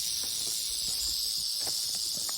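Rattlesnakes on a trail, several snakes together, give off a steady high dry buzzing rattle that runs continuously and fairly loud, with faint scattered background sounds underneath.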